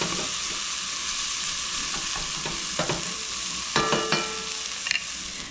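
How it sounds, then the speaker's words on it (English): Corn kernels sizzle and fry steadily in a hot pot over high heat for a bacon corn chowder, a continuous close crackle broken by a few louder scraping stirs. "I'm going to get the corn in there. Get that cooking and charring a little bit."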